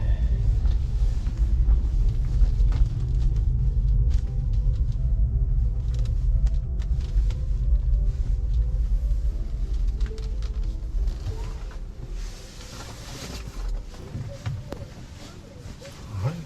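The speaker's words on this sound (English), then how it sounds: "Oh, perfect. The car wash is open." An automatic car wash running in extreme cold, heard from inside the car as a loud low rumble of machinery and spraying water, steady at first and easing off toward the end with some scattered clatter.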